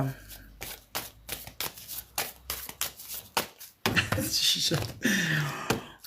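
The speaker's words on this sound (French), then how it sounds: "je mélange les cartes et tu me dis stop" A reader shuffles a deck of tarot cards during a fortune-telling session, with a rapid run of riffling card flutters, then a longer sliding shuffle, and a voice talking at times.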